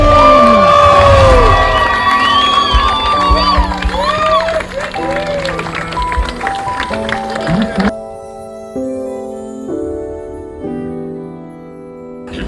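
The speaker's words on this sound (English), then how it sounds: "Round of applause then for all your riders here" At a freestyle tram-riding competition, the opening event of the season, a crowd cheers and claps for the riders after a Big Air run. The cheering is loud at first, then thins out, and music carries on underneath.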